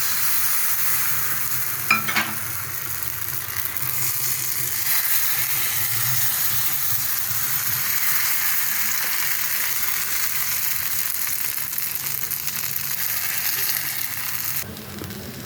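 Rice-flour batter for sorucakli pitha fries in a hot kadai with a loud, continuous sizzle and hiss for the Poush Parbon festival, broken by a single utensil clink early on.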